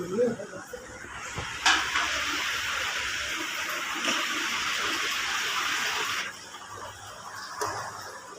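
Tea is poured onto a plate in a continuous splashing stream lasting several seconds, then stops abruptly. Voices speak around it.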